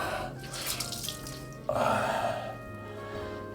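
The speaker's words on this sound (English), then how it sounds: "Now I'm just going to take a shave cloth here, my shave cloth, rinse it off." Shave cloth rinsed under a running bathroom tap, water gushing and splashing in the sink, louder as the cloth goes under the stream midway, close and alone.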